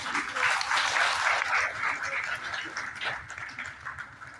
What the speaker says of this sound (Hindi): सभी तालियों की जो आवाज है उसको बढ़ाते रहें